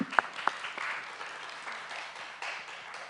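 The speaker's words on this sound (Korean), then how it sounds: "정말 많이 노력했다는 데 대해서 박수를 쳐드리고 싶어요" Applause for a student mock-trial team at a regional competition, opening with a couple of sharp claps and then a light spattering of clapping from a small audience, faint and brief.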